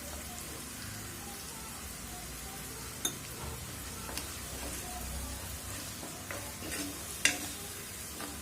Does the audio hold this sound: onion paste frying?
yes